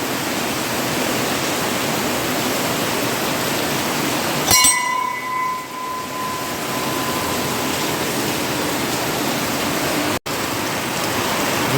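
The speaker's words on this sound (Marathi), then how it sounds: "धुवाधार पाऊस पडतो." Heavy monsoon rain pours down in a Konkan hamlet, a steady, dense roar of falling water that runs unbroken through the whole stretch, with a single brief glassy clink partway through.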